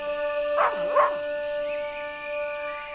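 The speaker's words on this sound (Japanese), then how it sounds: "犬の鳴き声するけど、" A dog barks and yelps twice in quick succession in the horror video game Maid of Sker, sounding somewhat distant over a steady tonal ambient hum, followed by quieter ambience.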